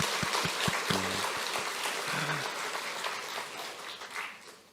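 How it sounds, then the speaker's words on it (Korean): A church congregation at a Sunday worship service claps in encouragement, a dense, moderately distant wash of applause with a few low voices or organ-like tones near the start. "우리 헌신하시고 수고하시는 우리 모든 분들을 위하여 한번 응원과 격려의 박수 한번 해주시면"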